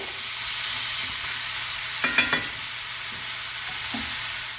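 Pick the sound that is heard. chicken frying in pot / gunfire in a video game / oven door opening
chicken frying in pot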